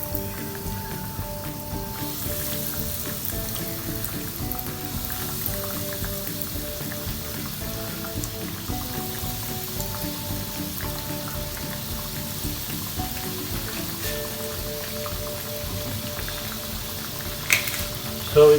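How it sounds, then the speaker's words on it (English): Chorizo and cheese rissois fry in hot oil in a pan over a medium flame, a continuous bubbling sizzle that holds steady throughout, with a faint melodic tone running underneath. "So put your oil in a pan and make sure it's hot. Okay, so let's start frying it."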